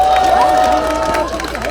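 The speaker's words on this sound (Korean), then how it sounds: "큰 박수로 맞이해 주시기 바랍니다" A crowd at an outdoor campaign rally near a subway station cheers and applauds loudly and continuously, a dense wash of clapping and shouts, while a voice carries over the noise.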